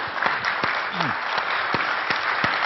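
A crowd at a poker event gives Doyle Brunson a standing ovation: dense, steady clapping fills the room loudly from start to end, with a brief voice surfacing in the middle.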